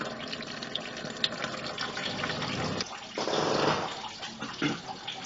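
Coolant draining out of the radiator of a 1997 Ford Explorer, a steady close splashing pour that gushes louder for a moment, with no talking.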